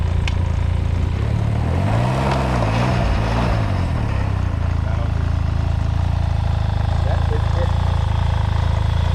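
Can-Am Ryker motorcycle engine running with the brake held, a loud close steady idle rumble with a rising and falling rev in the first seconds, voices talking over it early on.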